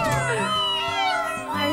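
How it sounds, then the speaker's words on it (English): Cartoon kittens give a run of high, overlapping meows, loud and close, in a short burst of about two seconds. "They're Titi's adorable little kittens."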